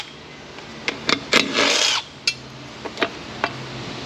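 Short bursts from a power tool backing out bolts on a 2006 Cadillac Northstar 4.8 powertrain with 4T80 transmission, a few brief whirs and one longer run, close by with clinks between.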